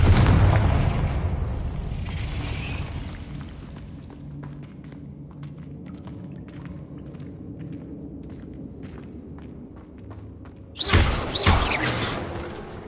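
Confringo fire spell blasts in the Hogwarts video game: a loud, broad burst opens the clip and fades over a few seconds, then a second sharp blast erupts near the end, with scattered crackling and clicks between them.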